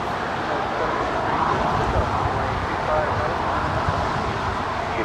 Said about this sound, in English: That is United Airlines Flight 2146 departing to Denver.